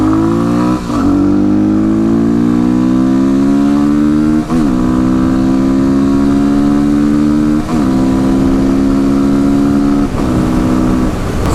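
A supermoto motorcycle accelerates at highway speed, its engine note climbing through each gear with several brief dips at the shifts. Loud and close, with wind and road noise and no talk.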